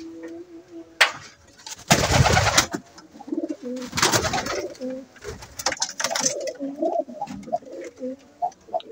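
Pigeons cooing inside a coop where the birds sit on eggs, with soft repeated coos close by, broken up by a few loud bursts of wing flapping or rustling.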